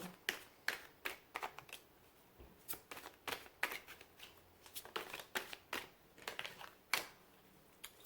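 Tarot cards being shuffled by hand, a run of quick crisp riffles and taps repeating in bursts, close and fairly quiet, with no talking.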